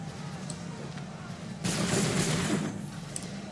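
A musket volley fires in Assassin's Creed 3: a sudden loud burst of massed gunfire that rolls on for about a second before fading, with background battle ambience and voices before it.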